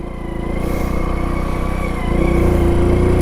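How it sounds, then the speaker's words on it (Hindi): A motorcycle's engine hums steadily at close range as the rider brakes with the clutch pulled in, a loud, even drone that rises slightly in level toward the end. "अब मैं क्लच दबा के सेम स्पीड में सेम गाड़ी के सामने से ब्रेक मारता हूँ"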